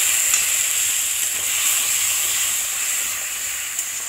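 Kashmiri red chilli powder and turmeric paste with a little water sizzle and fry steadily in a pan for Tangra fish curry, a loud, continuous, even hiss with no talk.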